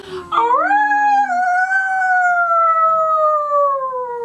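A person imitates a wolf howl, a loud sustained voice that rises sharply and then slides slowly downward for several seconds, alone and close to the microphone.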